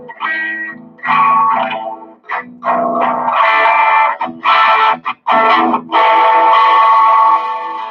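Electric guitar through an amp with a Greenback speaker and the bass turned up, played in distorted chords and phrases with short pauses, full and loud, no voices.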